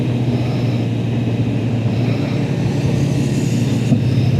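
Honda 1000cc sport motorcycle on a racetrack, its engine a smooth, steady drone with a low mid-frequency hum throughout, loud and close, no sharp revving or pauses, and no voices.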